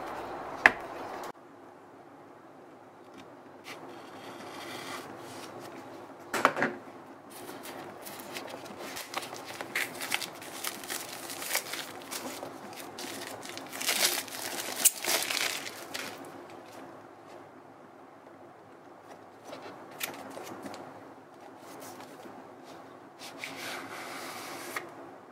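A space grey Apple Magic Trackpad 2 is unboxed, with close, intermittent rustling, scraping and tapping of its box and packaging and occasional sharper knocks.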